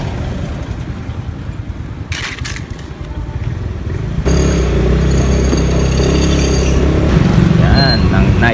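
A motorcycle rides at night through Coron, Palawan, its engine a loud steady drone close to the microphone that swells noticeably halfway through, with faint voices underneath.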